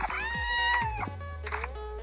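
A pet cat in the video game Free Fire gives one drawn-out, clear meow followed by a shorter second meow, close and prominent over faint game background.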